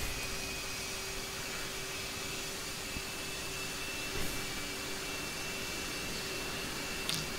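Twin jet engines of an F/A-18D in a flight simulator, a steady broadband roar with a constant whine holding throughout, alone with no talk.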